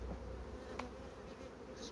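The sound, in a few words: honeybees buzzing at the hive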